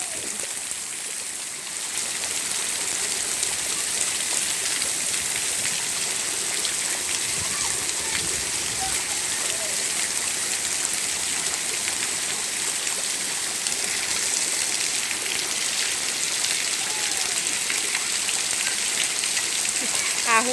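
Heavy rain pours onto a street in a constant, dense hiss that fills the whole stretch, loud and close, with faint voices now and then underneath.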